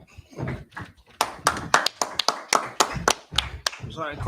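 Hands clapping during a Sabbath service class, with a run of sharp, close, rhythmic claps at a steady beat, some voices and murmuring woven in between.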